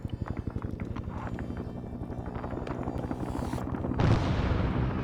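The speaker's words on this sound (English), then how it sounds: "Chopper out there." Helicopter in a Vietnam war video game, rapid rhythmic rotor thumping that swells louder toward the end, heard alone.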